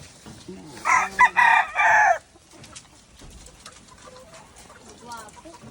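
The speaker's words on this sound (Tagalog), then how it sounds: "itong mga manok natin dito" A rooster crows loudly nearby in a few bursts, followed by softer scattered clucking and bird sounds in the background.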